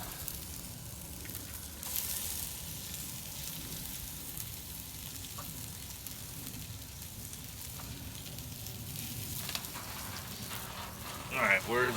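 Sausage sizzles and crackles steadily in a hot Dutch oven, a continuous close frying hiss with occasional pops and a brief scrape near the end.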